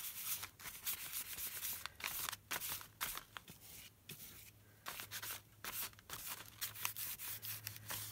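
Paint being smushed and rubbed onto journal paper, a continuous dry scrubbing and rubbing with short strokes and brief pauses, close and moderately loud, with no talking.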